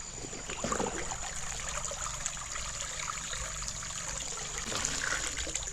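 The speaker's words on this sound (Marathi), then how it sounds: "तर आता ह्यो आम्ही पाण्यात ठेवतो पाण्यात डुबवतो" A crab trap being dunked into a river in Sindhudurg, Konkan, to soak overnight: steady trickling and sloshing of water with a soft splash near the start, continuous and fairly close, no voices.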